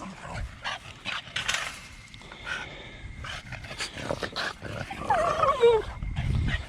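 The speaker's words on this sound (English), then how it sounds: "Two dogs are crazy." Two dogs bark, yip and whimper in bursts close by at a farm while wet ground is being cultivated, the excited calls scattered through the clip among outdoor background noise.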